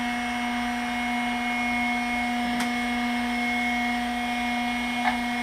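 Steady whine of a Drill Doctor 750X drill bit sharpener grinding a bit: a constant motor hum with strong tonal bands, close and even throughout, with two brief scraping contacts as the bit touches the wheel.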